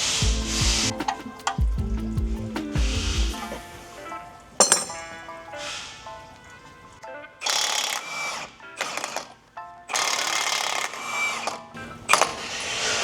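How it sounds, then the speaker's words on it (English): Metallic ratcheting, clinking and rubbing as the axle nut is removed from a 2006 Acura TSX 6MT during a K24A2 engine swap removal, coming in uneven bursts separated by short pauses, close up, with no talking. "we just took off the axle nut"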